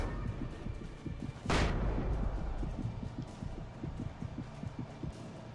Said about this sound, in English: Ow. Flashbang.